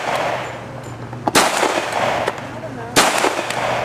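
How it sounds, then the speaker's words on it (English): Two sharp shots from a Kimber Custom II .45 ACP 1911 pistol fired outdoors at targets about 50 yards away, loud and well spaced, with a steady background hum between them. "Where he's going to be going ahead and shooting about 50 yards away."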